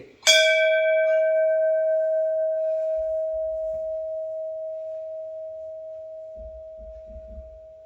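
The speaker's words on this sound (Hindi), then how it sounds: "जैसे घंटी नॉर्मली आप सुनते हैं साधारण अवस्था में, सामान्य, वो ये" A single bell strikes sharply, then its clear ringing tone hangs on and slowly fades away over several seconds, with faint low thumps near the end.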